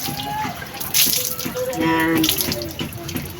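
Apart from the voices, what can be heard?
water filling a container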